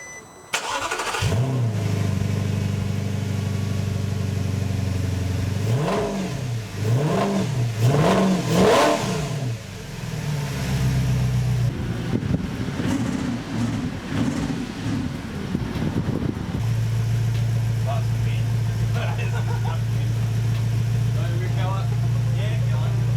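An Audi R8 with an upgraded exhaust starts and revs repeatedly, loud rising-and-falling exhaust blips, then settles into a deep steady idle; a voice is heard at times.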